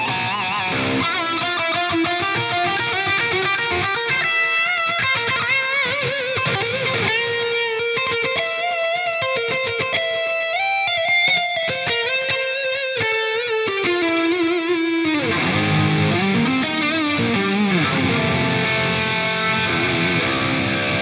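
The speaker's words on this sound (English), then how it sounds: "what I call a stereo chorus delay" Electric guitar lead runs through an Axe-Fx III stereo chorus delay, with sustained, gliding notes trailed by shimmering, repeating echoes. The tone is thick and continuous at a steady level, with no speech.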